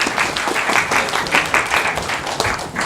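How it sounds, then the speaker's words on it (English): Audience at a live radio play performance of It's a Wonderful Life breaks into loud, sustained applause, dense clapping filling the room from start to finish. "Give yourself an applause."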